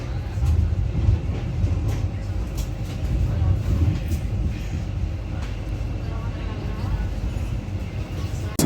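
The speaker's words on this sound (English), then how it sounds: "Arriving at Sant Hirdaram Nagar railway station." Train rolling into Sant Hirdaram Nagar railway station, a steady low rumble with faint rhythmic clatter throughout, heard from on board at moderate level.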